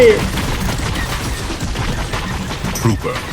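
Spaceship blasters fire in a Fortnite Star Wars match as a dense burst of rapid shots and impacts, with excited voices talking over the gunfire.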